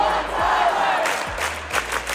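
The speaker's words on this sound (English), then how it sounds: "the crowd started cheering" A concert crowd in a packed venue roaring and cheering, a loud, continuous wall of shouts and whoops with no clear talking.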